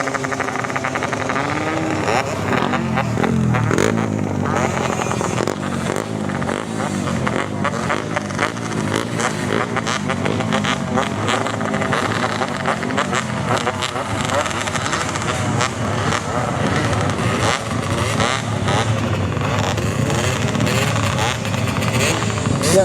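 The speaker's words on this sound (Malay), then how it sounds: "Two stroke bunyi dia best" Two-stroke motorcycle engines rev loudly and repeatedly on a busy festive night street, the buzzing rasp rising and falling near and far, with voices and other traffic mixed in.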